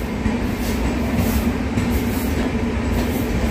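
The Korba–Yesvantpur Wainganga SF Express pulls into Penukonda railway station, a steady loud rumble of rolling coaches and wheels on rails continuing throughout without pause.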